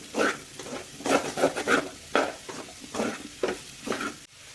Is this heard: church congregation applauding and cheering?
no